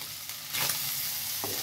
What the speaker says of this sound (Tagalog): Pagka medyo naprito-prito na ng konti, lagyan na natin yung ating luya saka bawang